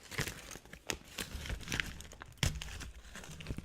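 A chocolate wrapper crinkles and crackles in quick, uneven bursts close to the microphone, fairly quiet, with no talking over it.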